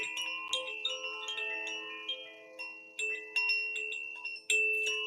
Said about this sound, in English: I love this chime so much.